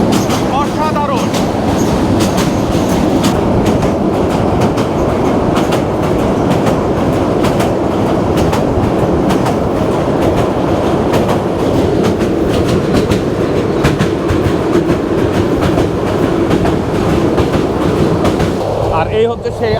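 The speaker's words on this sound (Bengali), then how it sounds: "মেঘনার উপর দিয়ে এখন আমাদের ট্রেন যাচ্ছে" The Sonar Bangla Express crosses the Meghna River on the Dhaka to Chittagong line, a loud, steady rolling rumble of wheels and carriages with clicking rail joints running throughout, close and continuous.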